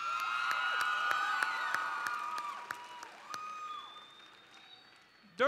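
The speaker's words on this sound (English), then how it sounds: "Let's give Carlin one more round of applause." Audience applause at the Utah FFA State Convention session, a moderate wash of clapping with a few sharp claps and faint cheers, fading gradually toward the end before a brief louder burst.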